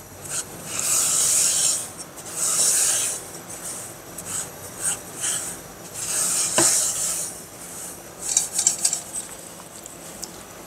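Semolina (suji) being dry-roasted in a pan, stirred with a utensil that scrapes and rasps across the metal in repeated bursts, loud and close, with a sharp clink midway.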